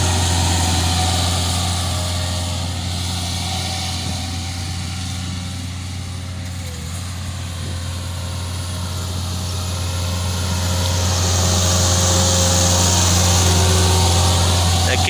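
A Jacobsen fairway mower engine runs steadily and loudly throughout, a constant low drone with a strong hum, on a golf course fairway just scarified for aeration.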